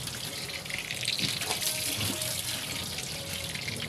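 Water gushes steadily from an open pipe while a faucet is being fitted to it, a continuous close splashing hiss with no pressure behind the flow, lasting throughout.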